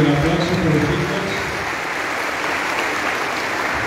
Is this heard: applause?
yes